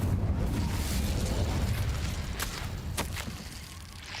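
An Incendio fire spell is cast in a video game, a loud whooshing burst that rolls into a rumbling flame roar, then fades with a few sharp crackles and pops.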